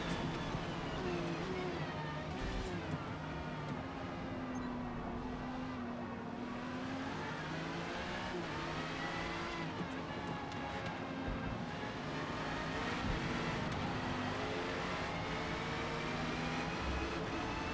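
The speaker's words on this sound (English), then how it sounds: "I love those V8 supercars, dude." V8 supercars race with a continuous loud engine roar, its pitch climbing and falling through gear changes and revs and never pausing.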